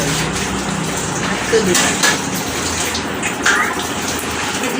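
Steady running water splashes and clatters as dishes are rinsed, with faint voices now and then.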